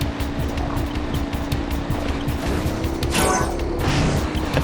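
Sandshark vehicle from the video game Jak 3 driving with a steady loud engine drone, tire and sand rumble, and a swooshing burst near the end, with no talking.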